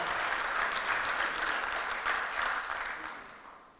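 An audience at a talk on confidence bursts into warm, fairly faint applause. The clapping is steady at first, then thins and fades out toward the end, with no talking.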